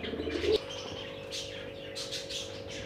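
Siraji pigeons in a bird shop coo softly, with a low murmuring coo and scattered faint chirps and rustles over a steady background hum; a brief louder noise opens the clip.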